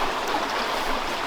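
Small creek flowing steadily at a Colorado fly-fishing spot, a continuous close broadband rush and babble of water with no talk.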